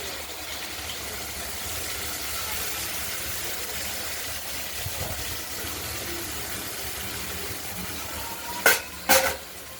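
Ground spice paste of ginger, green chilli and cumin frying in a pan, a steady low sizzle with two sharp clatters of a utensil on the pan near the end.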